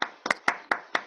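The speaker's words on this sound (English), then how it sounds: "I hope you all join me in a round of applause" A few close hand claps from one person in an online video meeting, five or six sharp, separate claps at an uneven pace with silence between them and no talk.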